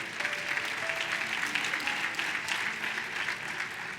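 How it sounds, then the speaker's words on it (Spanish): A church congregation applauds steadily, a dense wash of clapping that holds at an even level from start to finish, with no voices standing out. "Denos un aplauso."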